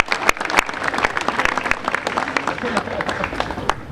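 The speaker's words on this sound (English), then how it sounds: "we can applaud that" Audience applause at a university gathering with a governor's visit, a sustained burst of many hands clapping nearby with sharp individual claps standing out, filling the whole moment without pause.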